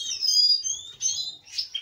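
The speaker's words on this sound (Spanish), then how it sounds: "¿Qué es lo que estáis viendo? Canarios y lúganos." Captive canaries and siskins chirping close by: rapid, bright trills and tweets in overlapping bursts, fairly loud and continuous, with no talking.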